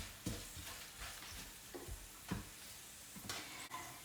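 Spices for mango pickle are stirred in a pan, with soft scraping strokes and a faint sizzle, quiet and unhurried, repeating every second or so.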